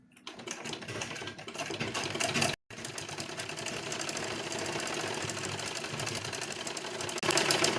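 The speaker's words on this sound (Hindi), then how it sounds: "और अब मैं साइड से एक पैर के मार्जिन के हिसाब से एक और सिलाई चला लूँगी।" A sewing machine stitching a seam on a boat neck blouse runs at a fast, steady mechanical whir, close and loud, with one brief stop partway through before it carries on.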